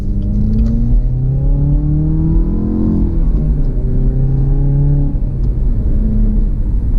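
A 2017 Chevy Camaro with the 2.0-liter turbo four and six-speed gearbox pulls hard, its engine note climbing steadily through revs, easing at a shift, then rising again. It is heard from inside the cabin with no talking.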